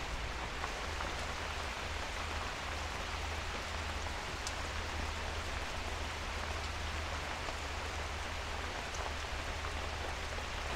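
Heavy rain pours steadily at a forest campsite near Sapanca, a dense, constant hiss of drops with faint scattered patters on surfaces, sustained throughout without any voices.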